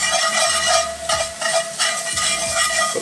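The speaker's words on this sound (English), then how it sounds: "2 tablespoons of tomato puree. I'll mix this up." Tomato puree stirred into a roux in a pan on a BBQ, with a steady close sizzle and frying hiss under repeated scraping strokes of the spoon and no talk.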